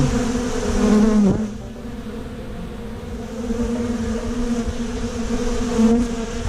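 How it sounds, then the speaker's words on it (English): Steady buzzing of honeybees droning close by during a hive trapout, with drones clustering, a continuous insect hum with slight swells in pitch and loudness, no voices. "There's a little bee."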